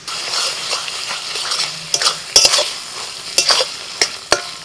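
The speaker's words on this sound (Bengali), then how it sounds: "5 মিনিট মশলাটা কষিয়ে নিয়েছি" Spice masala sautéing and sizzling in a pan for a mutton curry, with a steady frying hiss and sharp intermittent scrapes and clinks of the stirring spoon against the pan.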